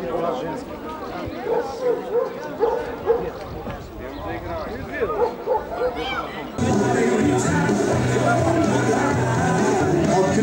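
Dogs bark amid steady crowd chatter and an announcer's voice beside the show ring of a dog exhibition in Banya and Karlovo. A louder, dense wash of noise takes over for the final few seconds.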